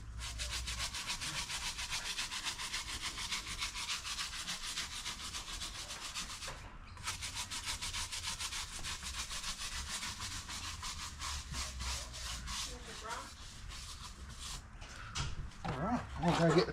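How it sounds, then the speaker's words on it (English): A tyre cleaning brush scrubs a 4WD tyre in rapid, close back-and-forth bristle strokes, loud and continuous with a brief pause partway, while a dog whimpers and a voice speaks briefly toward the end. "I think this is more a tyre cleaning brush than a wheel rim cleaning."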